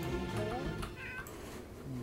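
A cat in The Sims 3 meows a few times in quick succession, fairly close and clear over a steady game background, with a faint voice briefly underneath.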